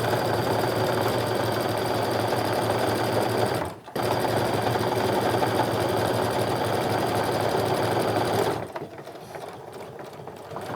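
Sewing machine stitching a tote bag seam, a loud steady close-up motor hum broken by one brief pause, then stopping near the end with quieter handling sounds.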